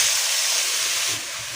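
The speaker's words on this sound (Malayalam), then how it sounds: "നമുക്ക് ഇതേ നെയ്യിൽ തന്നെ ഈ അരിഞ്ഞെടുത്തിട്ടുള്ള പഴവും കൂടെ ഇട്ട് കൊടുക്കാം" Sliced banana frying in ghee for banana pradhaman, a dense steady hiss close up that drops a little in level near the end, with no talk.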